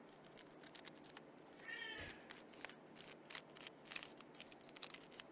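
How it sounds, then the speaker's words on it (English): A cat named Tomo meows once, fairly quiet, over soft background clicking like keyboard typing. "Tomo, he's a meower. I don't really know what his deal is, but he's meowing."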